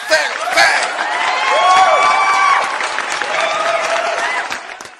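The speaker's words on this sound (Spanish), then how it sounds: "Así que vamos a recibir con fuerte aplauso a Mello" A crowd greets a young reggaeton artist with applause and cheering, with dense clapping under whoops and excited voices calling out, loud and lively throughout.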